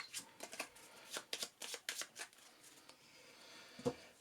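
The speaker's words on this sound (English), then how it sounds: "I'll just shuffle up this encounter deck" Cards from a Marvel Champions encounter deck are riffled and shuffled in quick crackling bursts, close and fairly quiet, ending with a soft tap.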